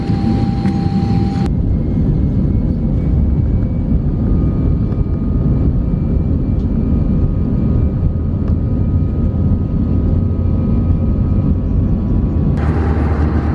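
Steady broadband cabin roar inside an Aeroflot airliner in flight, a 3x3-seat economy cabin, with the engine and airflow drone constant throughout and a faint tonal whine near the start.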